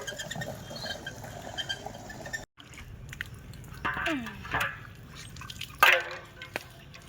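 Water runs into a kalsi, a clay water pot, in a Sundarbans village home, with irregular splashing and dripping and a brief rising fill tone, while a person talks nearby.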